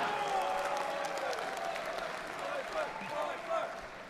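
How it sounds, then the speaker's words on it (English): An audience at a conference fills the room with steady, fairly distant applause, dense clapping with crowd murmur that swells slightly near the end. "what are you clapping for"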